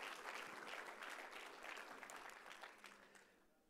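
Church congregation at a Pentecostal Sunday morning service applauding, a dense wash of hand claps from many people that holds steady and then tapers off softly at the end.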